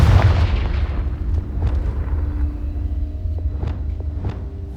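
Confringo fire spell blasting in the Hogwarts Legacy video game, a loud booming impact at the start followed by a rumbling tail and a few sharper crackling hits.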